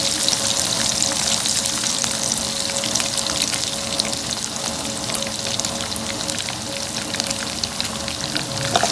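Green and dried chillies fry in hot oil with a continuous, dense sizzle and crackle that stays steady and close throughout, with no voices over it.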